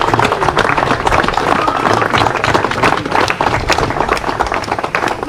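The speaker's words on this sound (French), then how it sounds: "Nous pouvons encore applaudir ce couple magnifique" Wedding guests applaud the newly married couple in a dense, loud burst of many hands clapping, sustained and close, with a few scattered voices mixed in.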